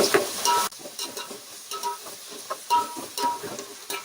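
Biryani masala with coriander and curry leaves being stirred in a pan, soft scraping strokes over a light sizzle, close and fairly quiet, with a louder clatter at the start.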